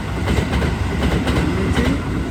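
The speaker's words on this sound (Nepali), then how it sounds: "हामी घर जान लागेको ट्रेन आउँदैछ" A train pulls into a Tokyo station with a loud, close rumble and rhythmic clatter of wheels over rail joints, continuous and heavy throughout the short stretch.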